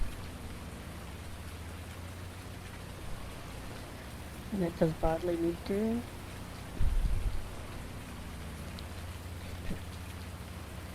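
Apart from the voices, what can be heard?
rain falling on a farm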